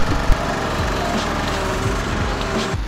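A riding lawn mower engine runs at a steady, loud, close drone for the whole stretch, with a brief clunk near the start and no talking.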